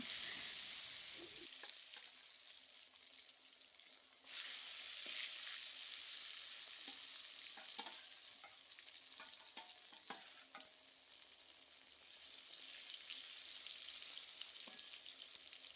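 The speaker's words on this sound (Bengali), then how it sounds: "তেলে ভেজে নিচ্ছি বেগুন ভাজা" Round slices of eggplant fry in hot oil with a soft, continuous crackling sizzle, low in level, punctuated by occasional light pops and spatters.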